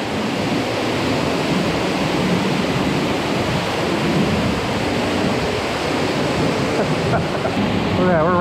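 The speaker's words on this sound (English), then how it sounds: "we're right in the waterfall." A steady, roaring rush of falling water from a waterfall at Silver Falls, Oregon, fills the whole stretch, loud and close, with no breaks.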